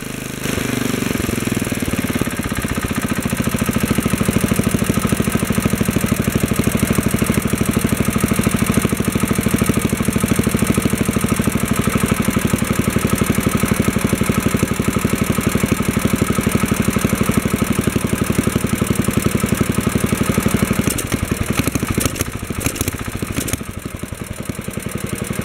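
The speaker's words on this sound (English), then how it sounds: "So as I richen out the mixture here, it stabilizes." Wheel Horse 704 garden tractor engine idling under its governor with the carburetor mixture being richened, a steady continuous running drone that settles and holds, with brief rattling and fluctuation near the end.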